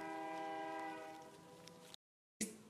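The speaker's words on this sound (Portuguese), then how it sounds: "Por causa dessa bosta desse trem que fica buzinando" A train horn blares in a long sustained honk, loud and harmonic, fading slightly before a sudden cut and a brief burst of noise; no one speaks.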